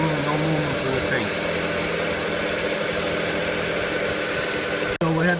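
An Audi VW car engine idles steadily at close range after several minutes of running, giving an even mechanical hum with a faint vibration, cut briefly near the end.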